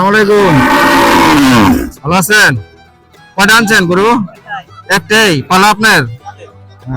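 A two-year-old cow moos loudly several times nearby at Kalampur cattle market, long drawn-out calls with short pauses between them, amid market surroundings.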